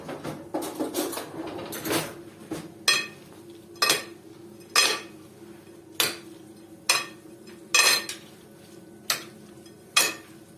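Chicken liver being stirred in a pan with red pepper flakes and salt, a utensil clinking and scraping against the metal in a steady rhythm of sharp, close strikes, about one per second.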